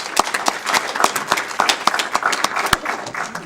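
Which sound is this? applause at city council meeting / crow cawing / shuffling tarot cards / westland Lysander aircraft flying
applause at city council meeting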